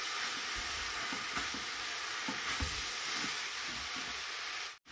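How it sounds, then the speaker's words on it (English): Korean fish cake stir-fries in sesame oil for a side dish, a steady hissing sizzle with rhythmic spatula scrapes and tosses close by, ending in a brief cut. "Then you put the 1 tablespoon sesame oil. Then stir fry."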